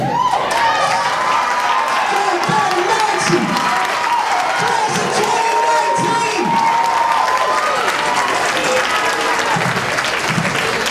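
A standing crowd at a 2019 high school graduation in Strawberry Mansion claps and cheers loudly for the graduating class, continuous dense applause with shouts and a voice calling out over it.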